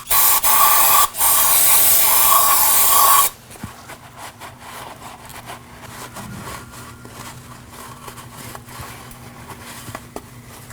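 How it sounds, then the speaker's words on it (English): Brake cleaner hisses loudly in steady spray bursts onto the axle seal mating surface of a 2018-2024 Chevrolet Equinox, with a brief break near one second, then stops, leaving faint rubbing and handling noises. "I'll be using some brake cleaner and a rag."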